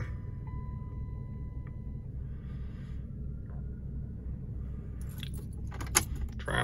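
A 1991 Chrysler New Yorker Salon engine idling just after a new starter motor was fitted, a steady low rumble heard up close, with a brief jangle of keys near the end and no talking.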